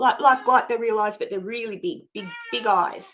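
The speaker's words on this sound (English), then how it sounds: "My cat's going to get in trouble today because she's been meowing like that for attention." A pet cat meows for attention indoors, a few short high meows rising among a person's ongoing talk, the calls partly tangled with the speech and then standing briefly clear near the end.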